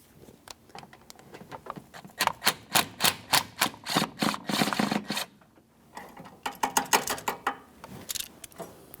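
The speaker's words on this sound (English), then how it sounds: "That's held in place to the subframe with a 10mm headed bolt. Remove that bolt and the mount." A 10mm-headed bolt is worked loose from the subframe bracket of a 2003-2007 Honda Accord, giving a quick run of sharp ratcheting clicks that pauses briefly and then resumes, close and fairly loud with no talking.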